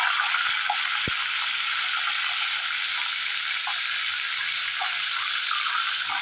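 Asafoetida, mustard seeds, cumin and curry leaves sizzle in hot oil with a dense, steady crackle, joined by a few small pops and one sharp tap near the start; there is no talking.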